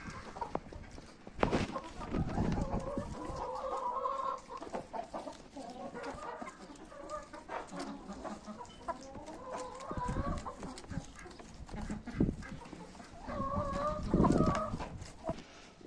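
Hens in a coop cluck and murmur as they peck at scattered fresh greens, soft repeated clucks rising and falling throughout, with occasional scuffs and taps nearby.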